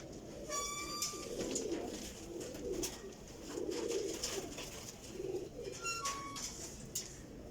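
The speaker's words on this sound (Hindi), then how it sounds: "बहुत अच्छे कबूतर ने उडारां वास्ते" Champion high-flying pigeons cooing in repeated low, throaty bursts, with sharper bird calls and background noise around them.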